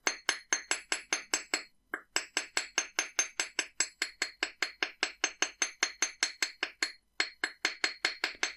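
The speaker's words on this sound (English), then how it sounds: "Then we can hammer the base of that drop shape." A small hammer strikes the base of a wire-wrapped earring drop shape in a steady, even series of light metallic taps, over thirty hits close up, with one brief pause partway through.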